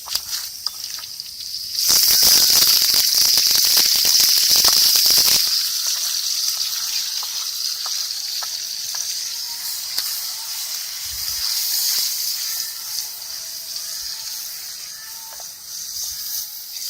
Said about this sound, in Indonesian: Sekarang kita tumis bawang. Berikutnya masukkan bumbu yang sudah kita haluskan.